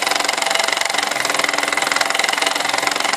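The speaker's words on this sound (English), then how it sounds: "it's disappointing for a restored engine to have it running like that" A restored brass Mamod SE1 steam engine runs with a fast, regular chuffing beat, loud and close. The rapid even pulses carry a rough, knocking edge throughout.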